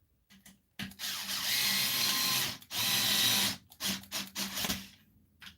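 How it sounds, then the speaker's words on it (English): Power drill driving screws into ABS plastic parts of a Tamiya Porsche 934 model kit, heard as two long steady whirring bursts followed by several shorter stuttering pulses, close and fairly loud, with no talking. "you can hear my drill working"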